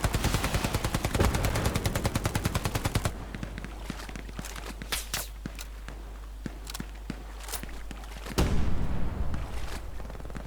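Gunfire in the World War II shooter Hell Let Loose: a rapid machine-gun burst opens, followed by scattered single shots and distant cracks, then another heavy burst near the end, with no talk over it.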